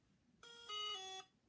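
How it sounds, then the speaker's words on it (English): Electronic beeps and a sustained tone from a Helion Rockrider RC car's speed controller during low-voltage cutoff setup, a clear close steady electronic signal whose pitch steps down partway through before cutting off, heard alone. "And there's the two beeps and then the tone."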